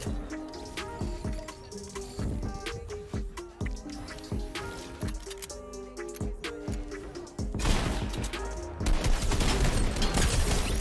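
Shotgun blasts in a battle royale video game, firing as sharp, fairly close shots that repeat at irregular intervals, with a denser flurry of blasts near the end.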